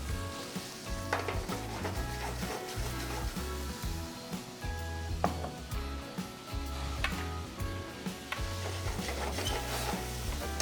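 Calamari tentacles frying in a pan with browned garlic, a steady close sizzle with scraping and stirring throughout, over a low rhythmic music bed.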